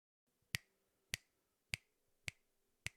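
Five crisp finger snaps spaced evenly about half a second apart, close and sharp, over faint background hiss with no talking.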